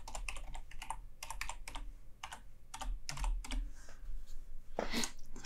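Close, brisk typing on a computer keyboard, a quick run of key taps with short pauses and a final heavier keystroke, over a low background hum.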